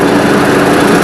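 A John Deere 4044M tractor drives a bush hog through palmettos, brush and saplings, its engine and mower droning loud, steady and close with no pauses.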